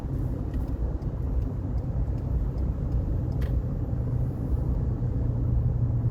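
Inside a 2020 Ford Ranger pickup in sport mode at about 50 mph, the engine holds high revs under a continuous loud, deep rumble mixed with road and tire noise.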